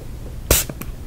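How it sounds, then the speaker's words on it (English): A scent spray bottle gives one quick hiss, then two small, fainter puffs, close up against a quiet background. "Basically, it sprays. It sprays a nice scent"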